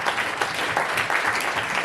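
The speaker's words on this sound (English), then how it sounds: "Clap it up for all of them" Comedy-show audience at a Los Angeles theater applauds steadily, a dense, even wash of many hands clapping close and loud throughout, with no voices over it.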